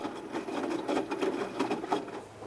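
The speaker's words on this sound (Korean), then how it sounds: "저기 세탁기 소리 한번 들어봐봐" A washing machine runs nearby during its wash cycle, giving a steady, fairly loud mechanical churning with soft rhythmic knocks and whirring, and no voices over it.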